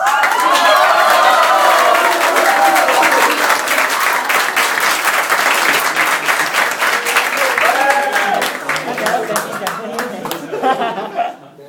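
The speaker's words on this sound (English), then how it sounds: "please give yourself a round of applause" A live audience claps loudly and steadily, with bits of cheering and chuckling mixed in, before the applause thins out and stops near the end.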